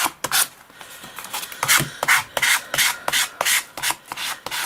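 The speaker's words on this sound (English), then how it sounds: "what it's doing by using the sandpaper, it's actually sort of cutting that edge off" Sandpaper is rubbed back and forth to cut off an edge, making a quick series of rhythmic, close, loud rasping strokes, roughly a dozen in under five seconds, with no voices.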